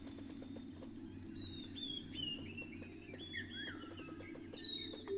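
Birds chirp and trill steadily in a video game world, bright repeated tweets and descending warbles layered over a constant low ambient hum.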